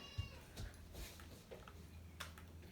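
A house cat meows quietly a few times in a room, faint short calls over low background noise.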